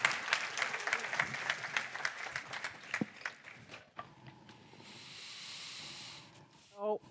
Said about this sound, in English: So let's give Peter one more round of applause.